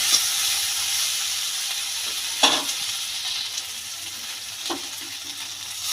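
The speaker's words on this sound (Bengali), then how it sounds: "সব সবজিগুলো মশলা দিয়ে ভালো করে ভেজে নিয়েছি এবার একটু জল দিয়ে দেবো" Spiced beans and potato curry vegetables sizzling in a pan as water is added: a loud, steady frying hiss with a couple of brief stirring scrapes rising above it.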